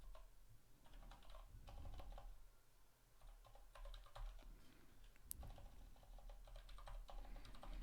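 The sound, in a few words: typing on a computer keyboard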